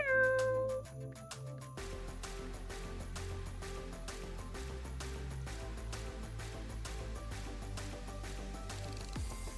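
A cat meows repeatedly inside the VRChat virtual world, the cries close and fairly loud against a steady layer of background music, with no talking over them.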